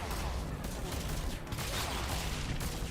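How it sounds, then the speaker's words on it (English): Dense, continuous gunfire from a Mass Effect firefight fills the whole stretch, a steady loud barrage of overlapping shots with no clear gaps. "Yeah, that's a lot of gunfire."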